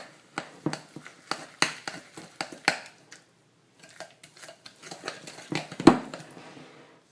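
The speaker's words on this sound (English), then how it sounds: "I'm going to mix together these 3 ingredients." Peanut butter, sugar and an egg are stirred together in a bowl, making a close, busy run of irregular knocks and scrapes from the utensil against the bowl, with a short pause midway.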